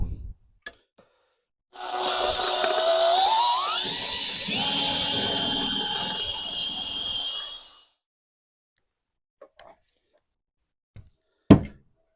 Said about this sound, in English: if we drill it right there with a countersink